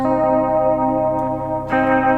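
Distorted electric guitar rings out a sustained minor third interval, then is restruck near the end, loud and close with a washy chorus and echo effect.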